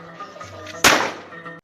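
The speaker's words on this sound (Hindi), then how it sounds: "छोटे बच्चों ने खिलौना बम और पटाखे फोड़े।" A single sharp firecracker or toy bomb bang cracks out during Eid celebrations, standing out loudly above a steady background hum.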